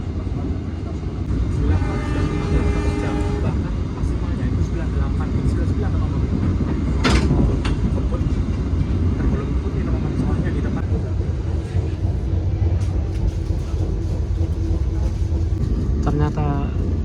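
Ijen Express passenger train from Malang to Banyuwangi running at about 100 km/h, a loud continuous rumble and rattle heard from aboard, with a brief horn-like tone near the middle and another near the end.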